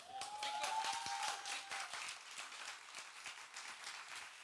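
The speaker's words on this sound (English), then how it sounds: "Now's the time for applause, guys." An audience claps in a reverberant chamber of the Turda salt mine, a dense steady patter of hands over a few seconds, with a brief tonal whistle near the start.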